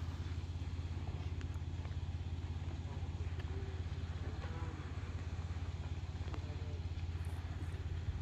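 A Jeep with an LS engine powers up a steep hill climb, its steady low engine drone continuous and moderately distant, with faint crowd noise around it.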